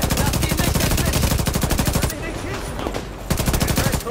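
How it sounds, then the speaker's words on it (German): Rapid automatic gunfire from the video game The Division 2, loud and close, in dense sustained bursts that break off briefly midway before another volley resumes. "Irgendwas beschießt mich von links."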